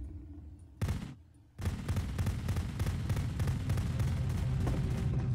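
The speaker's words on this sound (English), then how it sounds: "Remember, you can click to fire the gun" Gunfire in the video game Pressure: a brief burst of shots, then after a short gap a sustained, rapid stream of firing that runs loud and unbroken to the end.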